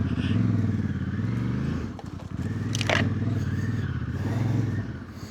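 An off-road motorcycle rumbles loud and close while riding, its engine rising and falling through revs, with a brief scraping clatter midway and a short voice briefly heard.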